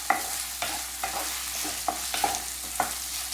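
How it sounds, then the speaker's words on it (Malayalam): Rice sautéing in hot ghee for jeera rice, stirred with a spoon that scrapes the pan in a run of regular sharp strokes over a soft, constant sizzle. "നെയ്യിൽ കിടന്ന് റൈസ് ഒന്ന് വഴറ്റിയെടുക്കാം"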